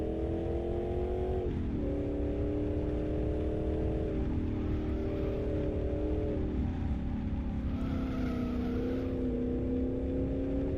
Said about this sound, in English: So it's got the V8 sound we would expect from a car like this.